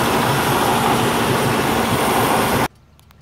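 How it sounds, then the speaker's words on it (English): A Rambler American 195.6 cubic-inch OHV engine with a Carter YF carburetor partly choked, running at a steady, loud, raised idle with a dense roar that cuts off abruptly near the end, leaving only faint background noise. "Notice how it makes the engine go faster when I close off some of the carburetor."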